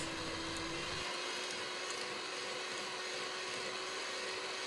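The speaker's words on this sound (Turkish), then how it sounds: "Mikseri hiç çalıştırmadan birazcık karıştırdım, ardından önce düşük, ardından da yüksek ayarda çırpacağım ta ki katı bir kıvam alana dek." An electric hand mixer whips dessert cream, running as a steady, continuous high-pitched whir at close range with no pauses and no talk.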